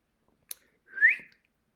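A person gives a single short whistle, a quick rising then falling note, after a faint click, in a quiet room with no talking.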